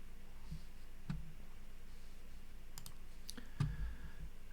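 A computer mouse clicks a few times at a PC, sharp isolated ticks spread through a faint room hum with no talking.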